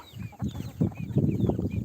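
Several chickens cluck close by on a Turkish poultry farm, a busy overlapping murmur of low clucks with a few higher squawks.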